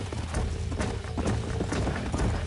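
Horse hooves gallop in the video game Red Dead Redemption, a fast, loud, continuous drumming of clip-clops with a rumbling low end.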